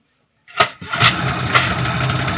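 A cold Yamaha 15 hp outboard motor cranks and catches, with a few sharp starter bursts that settle into a steady, close, fairly loud idle.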